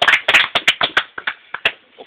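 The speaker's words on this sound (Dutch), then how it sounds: "Applaus." A small group at a prize-giving claps briefly, about a dozen crisp, uneven hand claps close by that thin out and fade within two seconds.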